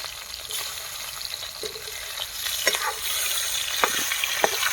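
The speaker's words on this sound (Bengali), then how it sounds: "এই পুরোটা আমি ভেজে দিচ্ছি" Fish fries in hot oil at an outdoor picnic by a pond, a constant close hiss of sizzling with a few soft clicks and knocks over it and no speech.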